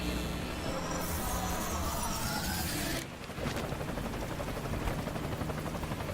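A helicopter's rotor chop and engine drone in Metal Gear Solid V: Ground Zeroes fill the scene with game-like mechanical noise; the sound dips for a moment midway, then resumes with rattling.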